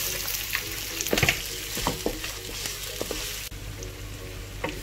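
Onion, garlic and ginger fry in a pan for a beef stir-fry, giving a steady, close sizzle broken by a few sharp stirring scrapes and clatters, with no talking.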